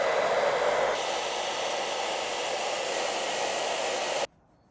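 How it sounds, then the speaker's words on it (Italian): A hair dryer blows steadily up close while heating a vinyl sticker on a camper, a loud broadband whoosh that shifts in tone after the first second and then cuts off abruptly near the end. "prendo il phon e vado a scaldarlo un po'"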